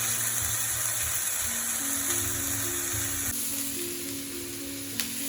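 A prawn curry base sizzles and fries in a pan while being stirred, a continuous loud hiss with occasional scraping, close and steady without any talk.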